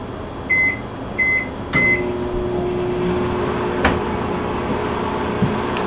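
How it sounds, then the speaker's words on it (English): Microwave oven running to melt a tablespoon of butter in a home kitchen: a few short beeps, a door click, then a steady low hum with no talking. "I'm gonna just melt this in the microwave."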